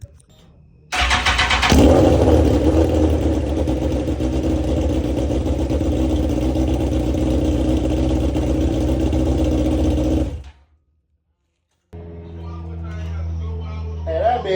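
A 2005-06 Suzuki GSX-R 1000 motorcycle engine cranks over after a clutch push rod seal repair, then catches and runs loud and steady up close for about ten seconds before cutting off, followed by brief quiet and faint sounds.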